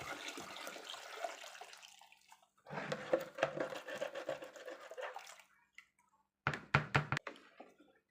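Dissolved lye water poured into a homemade bleach solution, two splashy pouring bursts separated by a short pause, followed by a brief quiet gap and a few sharp knocks and clinks of the container, close and alone.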